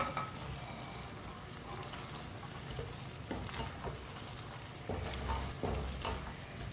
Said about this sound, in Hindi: चिकन डाल लेंगे, चिकन डाल के मिक्स कर लेंगे